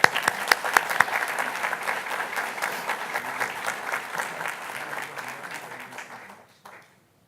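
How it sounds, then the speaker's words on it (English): Audience applause at a school board of education meeting: a few sharp close claps open into full, sustained clapping from the room that carries evenly, then tapers off and stops near the end. "Let's give them another round of applause."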